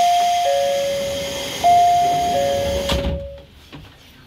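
A two-tone electronic door-closing chime on a local train at Yubari station, Sekisho Line, rings twice in a descending ding-dong pattern, clear and prominent over a steady hiss, then fades into quiet.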